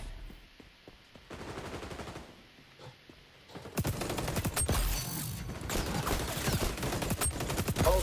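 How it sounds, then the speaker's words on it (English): Gunfire bursts from shotguns and automatic weapons in the online shooter XDefiant, sharp close blasts rattling off in rapid clusters, quieter at first, then louder and denser with overlapping shots. "Whose shotgun was that?"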